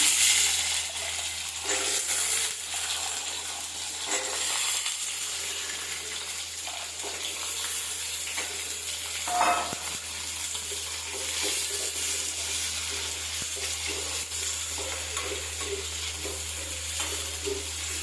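Small onions and garlic sauté in a pan with a continuous, moderately loud hiss and crackle and occasional stirring taps, steady throughout; no speech is heard.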